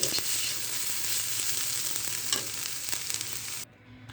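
Sliced potatoes and onion fry in a pan, giving a steady, close sizzle with a few scraping stir sounds, then the sound drops off abruptly near the end as the heat is cut or the pan is removed.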